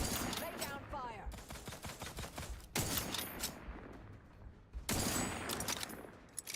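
Video game gunfire rattles in fast automatic bursts, broken by short pauses, at a fairly quiet level, with some talk in between.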